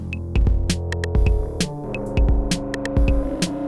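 Loud, glitchy processed sound from a Make Noise Mimeophon with its delay buffer reversed: throbbing low hum, sharp broadband clicks and stuttering tonal bursts that repeat in a choppy, distorted pattern.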